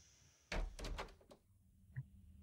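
In the fantasy role-playing game Avadon: The Black Fortress, a door opens with a heavy wooden thunk and a short rattling scrape, followed by quiet and one small knock near the end.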